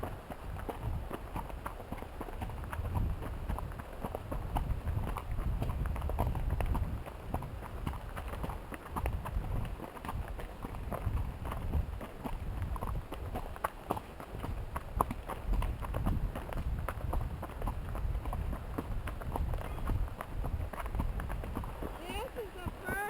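Horse hooves plod along a creekside trail at Mill Creek in a steady walking rhythm, fairly close, with riders chatting intermittently over the hoofbeats and outdoor ambience.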